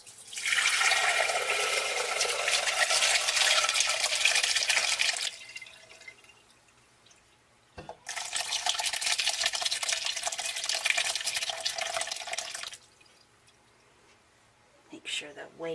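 Curdled goat milk for feta pours into a strainer lined with two layers of cheesecloth set over a bowl in a sink, two long splashing pours separated by a pause, with whey dripping between them.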